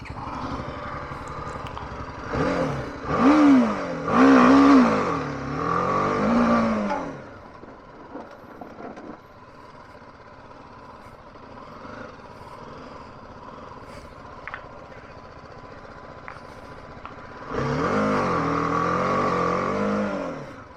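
Enduro motorcycle on a dirt trail, its engine revving hard in rising and falling bursts early on, settling into a quieter low running stretch, then revving loudly again near the end.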